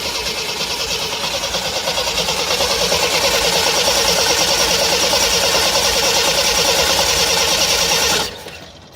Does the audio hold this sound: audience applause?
no